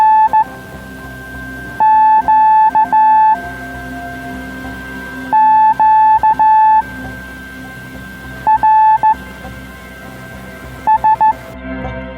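Amateur radio CQ-QRS net heard on the 80-metre band: bursts of steady, beeping tones keyed on and off in irregular clusters over a constant background hiss and hum, loud and without voices.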